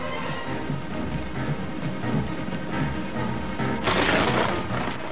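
Heavy rain drums on a 1998 Citroën Xsara's windscreen, a dense, continuous close patter with a brief louder surge of spattering near the end and no talk.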